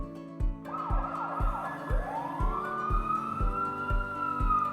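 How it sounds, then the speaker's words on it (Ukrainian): A loud wailing fire engine siren rising and falling over a repeating rhythmic beat, close and continuous. "Звучить сирена."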